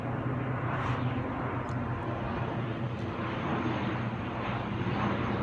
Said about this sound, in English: Okay, so let's just follow this plane briefly.